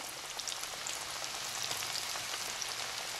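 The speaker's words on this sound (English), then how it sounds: "we're going to keep on frying these" Continuous sizzling and crackling of pork chops deep frying in oil, a dense hiss with scattered pops, steady and close, no talking.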